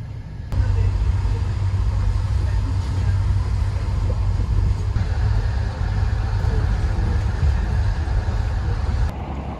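Interior of a train travelling back to Lviv, Ukraine: a constant low rumble of wheels and running gear, steady and fairly loud, with faint rattles and no clear speech.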